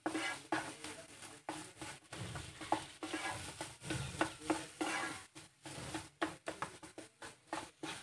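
Rajma curry mashed and stirred with spices in a pan, giving repeated close scraping, squelching strokes and a soft sizzle in an uneven rhythm, with no voices.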